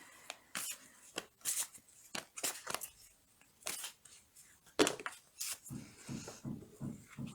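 Tarot cards shuffled and drawn at close range, a series of short crisp flicks and riffles with quiet gaps between, brief muffled handling near the end.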